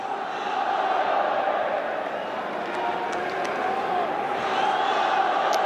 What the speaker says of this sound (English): What an animated crowd.